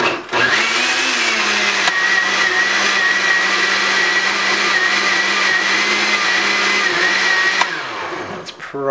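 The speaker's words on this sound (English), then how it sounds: "So there we have it in the blender, and I'm just going to do a little bit of pulses here, puree" A kitchen blender running loud and close, pureeing avocado and bok choy soup in one sustained whirring burst of about seven seconds, with a brief change in pitch near the end before it winds down.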